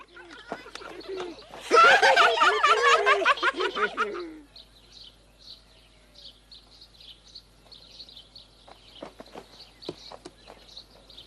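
A cartoon character's voice imitates cooing pigeons with a burst of rapid, throaty warbling calls, followed by quieter scattered chirps and faint clicks.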